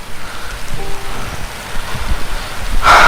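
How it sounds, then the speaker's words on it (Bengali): Heavy rain pours down steadily over a village vegetable plot, a loud, dense wash of noise that swells louder toward the end. "মেঘ ডাকতেছে বৃষ্টি হচ্ছে প্রচুর বৃষ্টি"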